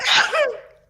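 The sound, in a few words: sneeze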